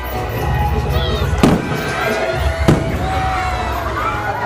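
Two sharp fireworks bangs burst about a second apart over a steady crowd murmur at a theme park, with faint distant crackle in between.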